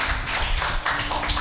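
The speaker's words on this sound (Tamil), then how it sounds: "கை தட்டுங்க பாப்போம்." A congregation at a Catholic blessing service claps hands together, producing a dense, steady patter of many overlapping claps that fills the room at moderate loudness without breaks.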